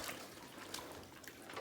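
A hunting pack is pushed down into a tub of water, giving soft continuous sloshing and trickling with gurgles close by, with no talking.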